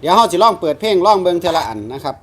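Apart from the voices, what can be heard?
No everyday noise stands out behind the speech.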